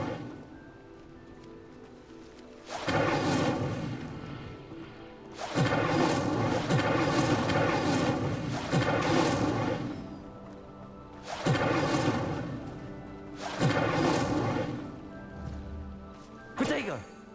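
An Incendio fire spell is cast repeatedly in Hogwarts Legacy to light pillars and pyres. Several loud, broad whooshing bursts of flame come in separate waves, with quieter gaps between them.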